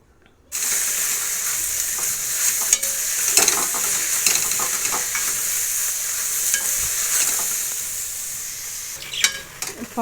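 Bottle gourd halwa fries and is stirred in a pan over lowered gas, a steady close sizzle with intermittent scraping stirs running throughout after a brief silent start.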